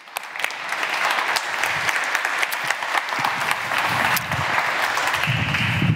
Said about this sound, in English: A big round of applause for eGovernment.